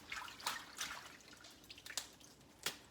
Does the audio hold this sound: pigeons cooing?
no